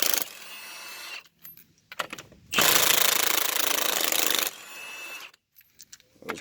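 An impact wrench loosens 19 mm lug nuts on a Ford Taurus X, firing in short rattling hammering bursts with one long loud sustained run in the middle, close and clear, separated by quiet gaps.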